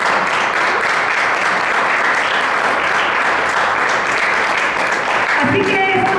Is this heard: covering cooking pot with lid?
no